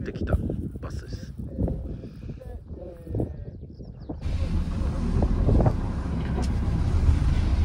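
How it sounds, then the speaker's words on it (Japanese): A tour bus at the JRA Hidaka training farm rumbles nearby, its engine and road noise rising into a steady louder hum with wind noise, while people talk over it at first. "ちょっと今乗ってきたバスです"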